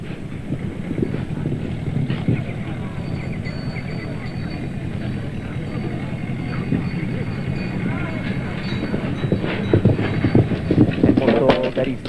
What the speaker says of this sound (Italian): Ecco qui dove è fermato il cavallo Jerry Smith.